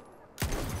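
Sniper rifle gunfire from the Battlefield 1 video game, Gewehr or SMLE MkIII: one sharp, loud shot bursts in after near-silence and rings out with a booming low tail.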